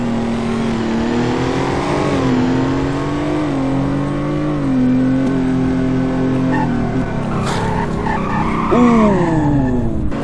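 Car in a stunt-show driving game skidding with sustained tire squeal over a loud engine drone, pitch wavering as it slides, then a sharper rising squeal near the end as it brakes.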